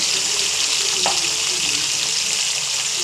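Green chillies frying in oil in a pan, a steady close crackling sizzle that continues evenly throughout with no voices over it.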